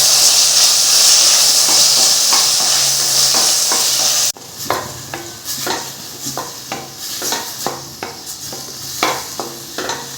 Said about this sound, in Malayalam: ഇനി ഇത് നമുക്ക് വഴറ്റിയെടുക്കാം.